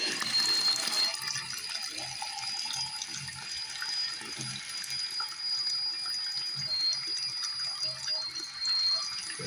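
Water runs steadily from a tap while someone washes by hand in a prison sink, a continuous rushing flow with some clatter and splashing throughout.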